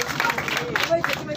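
Audience applause in a school-style assembly hall as a student is welcomed to the stage, a dense, steady patter of many hands mixed with crowd murmur and scattered voices throughout.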